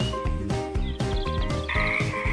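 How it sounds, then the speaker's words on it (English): A frog croaks in a steady rhythmic series of loud, throaty pulses, close and clear with no talking over it. "La rana, the frog, is verde."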